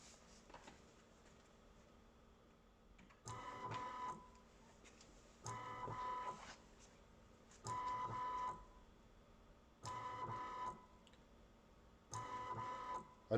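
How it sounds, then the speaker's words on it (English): A small CNC milling machine, an MM25L or MM32L, runs a repeatability test program, its axis drive whirring through five separate bursts of about a second each with short quiet pauses in between, with no one talking. "we've got a little program that just makes it move 10 times backwards and forwards and then stops for 2 seconds"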